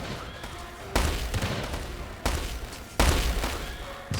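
Gunfire and explosions from a battle in a World War Selection strategy video game, with repeated bursts of shooting and booms starting abruptly in several waves over a constant noisy din.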